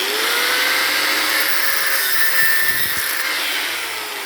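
A bench grinder whines steadily close by during motorcycle suspension linkage work on a Lifan, a high continuous tone with a faint rattle partway through and no voices.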